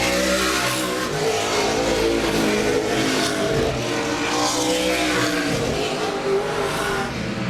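Race cars roar past on the Laird Raceway oval during Thursday Night Thunder, engines revving loud and continuous with swelling pass-bys and a brief tire-squeal edge, no commentary over it.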